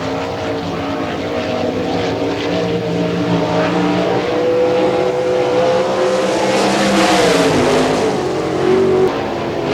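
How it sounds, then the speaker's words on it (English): Sprint car from an All Star Circuit of Champions field running a timed qualifying lap at Hartford, Ohio, a steady loud engine roar that swells toward the end as the car passes nearer, with no talk over it. "First lap time for Barry Rubel."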